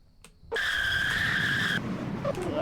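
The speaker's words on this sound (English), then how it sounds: "We're gonna do these Tesla burnouts?" A 2022 Tesla Model S Plaid does a burnout: a loud, steady tire squeal lasting just over a second breaks out suddenly, then drops into a rougher rumble of rubber and road noise.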